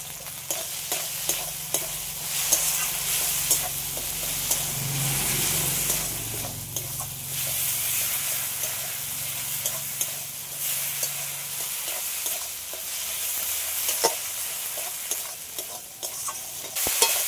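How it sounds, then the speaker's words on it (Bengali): A spice paste of chili powder and sugar sizzles while being stir-fried in a pan, with steady frying hiss and repeated scraping and tapping of a spatula, close and alone without voices. "মশলাটা তো ভালো করে কষানো হয়ে গেছে"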